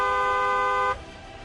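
A car horn gives one steady, loud honk lasting about a second and then cuts off, leaving quiet background noise.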